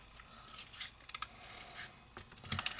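Scissors snip a decorative paper label for a scallop circle card in a few quiet, close cuts, with light crisp clicks and rustles of paper and no speech.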